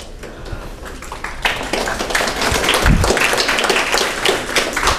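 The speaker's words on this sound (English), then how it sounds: "Thank you for the clap." Sustained applause from an audience at a community gathering of law enforcement and Somali Americans, steady and fairly loud throughout, with dense overlapping claps and no pause.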